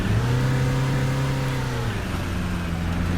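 A bus engine in the Fernbus driving game revs steadily and loudly, its droning tone climbing and then dropping back as it strains, with no talk over it.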